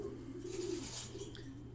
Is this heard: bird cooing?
yes